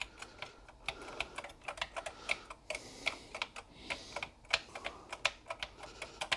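A keyboard is plugged into a Texas Instruments TI-99/4A computer and typed on. Rapid, uneven clicks of individual keystrokes sound close and crisp over several seconds, with no voices.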